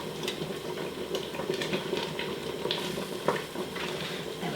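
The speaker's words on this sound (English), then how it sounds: "give it a bit of a stir" Oxtail and peanut curry being stirred in a pot, soft scraping and clinking of a spoon against the pan over a gentle sizzle, close and moderately quiet with no talk.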